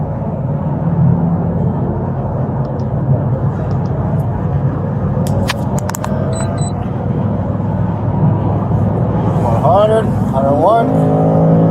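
A car speeds along a road at over 100 mph during a police pursuit, passing other vehicles, with a loud, steady engine and road roar from inside the cabin. Brief radio chirps and voices sound under the noise.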